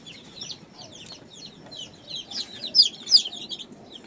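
Hens and chicks clucking and peeping close by, a busy cluster of short high chirps with a few louder calls, over a low murmur of background noise.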